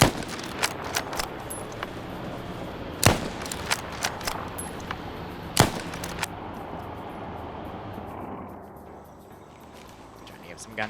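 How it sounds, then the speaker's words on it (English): Distant gunshots in a military video game set at a supply base, heard as scattered sharp cracks and a few louder single shots spread across the clip, fairly faint against a steady background. "Some gunshots behind him."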